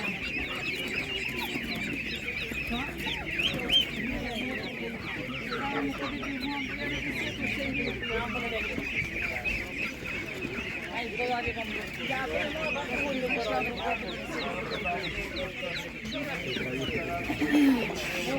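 Chickens clucking at a village poultry and livestock market, many birds clucking and squawking continuously at close range, with people talking in the background throughout.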